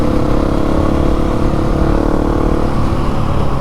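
A KTM 701 motorcycle climbs the Moki Dugway, its engine droning steadily and loudly up close with a constant pull and no pauses, mixed with rushing wind.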